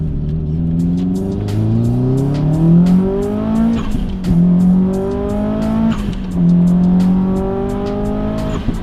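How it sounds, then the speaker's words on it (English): Subaru Impreza blobeye engine heard from inside while driving, revving up through repeated rising pulls with a clear gear change between each, loud and close, with an airy intake note and no talking. "best sounding car I've ever had, hands down"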